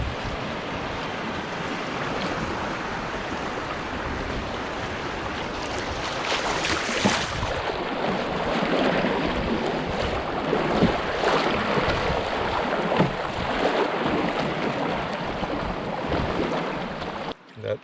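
Whitewater river rapids churn around a canoe on a solo wilderness trip, steady rushing water noise with wind buffeting the microphone, swelling louder midway before dropping off abruptly at the end.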